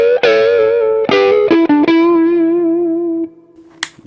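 A Schecter electric guitar on its full humbucker pickup plays distorted, warm chords and single notes, ringing out and sustaining before fading, with a brief scratchy pick noise near the end.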